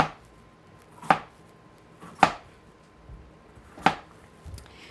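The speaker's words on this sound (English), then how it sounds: "I'm going to cut these in just about 1/4-inch slices" A knife cuts root vegetables into quarter-inch slices on a cutting board, giving three crisp, evenly spaced chops in an otherwise quiet room.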